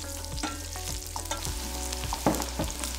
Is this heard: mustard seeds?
yes